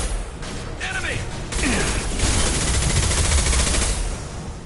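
Incendiary rounds fire in a video game as rapid, loud gunshots, a burst of automatic fire that builds over a few seconds under a dense game-mix backdrop.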